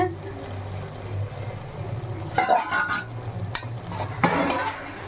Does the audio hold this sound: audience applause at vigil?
no